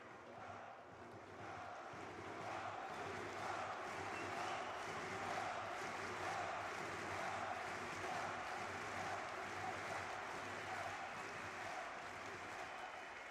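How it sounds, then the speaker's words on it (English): Large arena crowd at a CS2 grand final cheering and roaring in a steady, dense wash of noise that swells slightly and holds loud throughout, with no clear voices standing out. "This crowd reverberates throughout the Mayo Arena."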